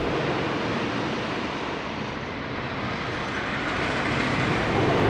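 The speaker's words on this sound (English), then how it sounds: "here, the train's about to come around this turn." Steady broadband rumble and roar of the Grizzly wooden roller coaster train at Kings Dominion, heard as a continuous wash at moderate distance with no voices.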